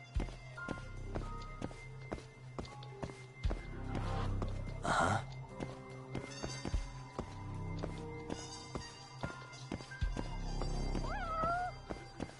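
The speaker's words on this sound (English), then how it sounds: "But of course, there's a cat here." A cat meows in the video game Judgment, with a short rising mew late in the clip over steady in-game footsteps and scattered ambient tones and chimes.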